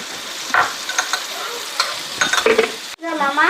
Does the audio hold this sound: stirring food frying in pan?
yes